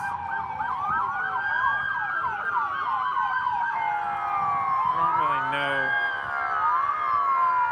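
Wailing police sirens sweep up and down continuously, loud and close, at a street protest, with a brief voice speaking over them partway through.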